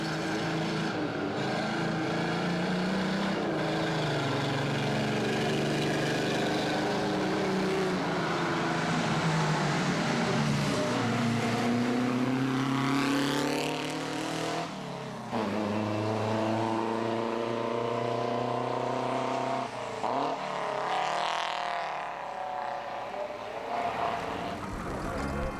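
Six-cylinder 1300 cc 50 horsepower car engine on a mountain pass road, a loud steady drone with rising and falling revs as it accelerates and shifts, heard close throughout.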